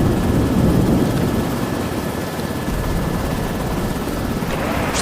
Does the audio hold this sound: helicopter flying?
yes